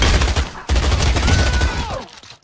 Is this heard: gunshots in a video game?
yes